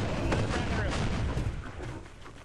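Heavy rapid gunfire from an automated turret in the video game Lethal Company, a dense, loud rattling burst that fills the clip and tapers slightly toward the end.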